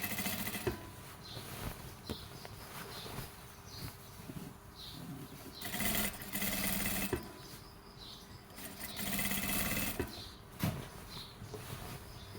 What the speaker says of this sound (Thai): ล้มตะเข็บเลยเย็บรอบสองมันก็จะเร็วหน่อยนะคะ